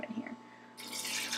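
Hot water poured into mason jars of beans being readied for pressure canning, faint drips first, then a steady hissing pour rising partway through.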